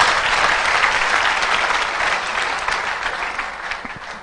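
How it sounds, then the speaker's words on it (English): A church congregation claps together in sustained, dense applause, loud at first and gradually thinning toward the end. "can we clap for Jesus Christ?"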